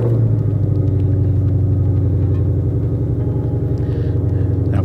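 A 2020 Ford Mustang Shelby GT500 V8 holds a steady, deep idle rumble with the exhaust set to its loudest mode, close and unbroken with no talk.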